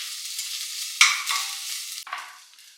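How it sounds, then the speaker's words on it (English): Ginger and garlic frying in a pan, a steady close hiss with a sharp burst about a second in as they hit the oil, then a second fainter flare-up, no voices. "So now I'm going to add ginger and garlic. Just fry them"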